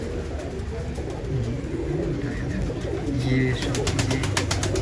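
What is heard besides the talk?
pigeons cooing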